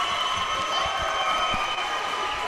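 Loud, steady crowd roar and cheering fills a high school volleyball gym after a set-winning point in a Region 7 championship match, continuous and close with no pauses.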